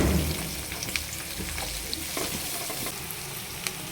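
Mustard seeds, cumin, green chilli, onion and curry leaves fry in hot oil for a chitranna tempering. The sizzle is dense and steady, with scattered pops and crackles, close and alone with no talking.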